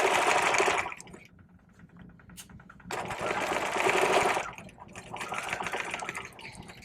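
Sewing machine stitching a curved and straight 5/8-inch seam on a vest bag lining, running in loud bursts from about 0–1 s, 3–4.5 s and again toward the end, with quieter pauses between.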